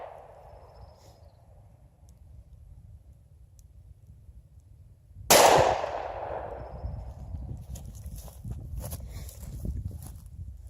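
A single sharp gunshot from a .40 S&W pistol loaded with Golden Saber hollow points, fired outdoors mid-clip with a loud abrupt crack that decays into a wash of ambient noise and rustling.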